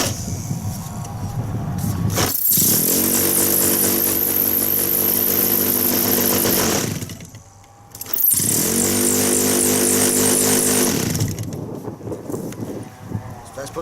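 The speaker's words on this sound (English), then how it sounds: "With petrols, what we do, we put the choke on and then you spin it until it fires." A petrol engine on an Acrowot XL RC model plane starts and revs hard, in two long loud bursts of buzzing, rising revs with a brief dip between them, close up.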